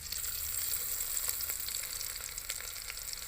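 A steady, soft hiss and crackle of chopped ginger and garlic frying in hot oil, with small pops scattered throughout and no talking.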